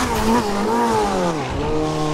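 A car engine in GTA roleplay whines at high revs with shifting pitch and a brief tire squeal, continuous and close.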